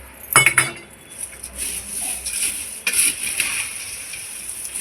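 Crisp clinks and rattles of sev being tipped into a bowl of shev mamra chivda, with a sharp cluster of clinks near the start and another burst midway, close and moderately loud with no talking.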